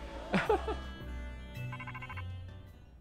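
A phone ringing in the video game Pokemon Legends: Z-A, heard as a short repeated electronic ringtone trill, with a brief voice just before it and a low background hum.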